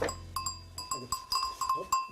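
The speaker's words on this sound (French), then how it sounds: "Et cet animal, le voici, la chèvre de Lorraine." Lorraine goats, a rustic breed, bleat in a series of short repeated calls on a farm in Moselle, fairly close and clear, with no talk over them.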